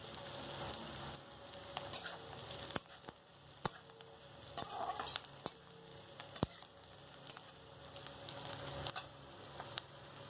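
Faint, steady sizzling of onions frying in a pan, with occasional soft clicks and scrapes of stirring scattered throughout.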